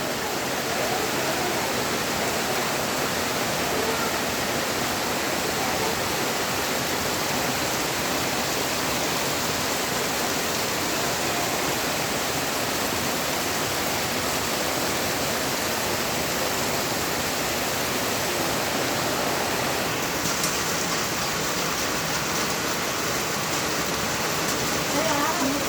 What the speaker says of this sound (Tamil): என்ன மழை ஸ்பீடாக இருக்குது.